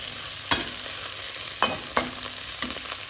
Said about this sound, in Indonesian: Ini dia sayur casingnya, kita tumis sebentar.